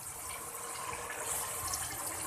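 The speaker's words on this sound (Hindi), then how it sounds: "अब इसमें मैं डाल देती हूँ पानी।" Water is poured into a pot of black chana curry, a continuous splashing gush that stays loud and close throughout with no voices.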